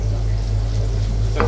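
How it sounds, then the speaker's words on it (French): Butter heating in a frying pan for an Indian dal keeps up a steady, soft sizzling hiss over a low hum, with one brief clink near the end. "c'est du beurre dans une poêle pour chauffer"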